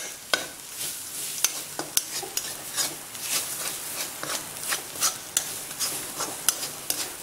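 Beef dry roast being stirred in a pan with a ground spice mix of fennel and black pepper, giving a steady faint sizzle broken by repeated sharp spatula scrapes and taps against the metal.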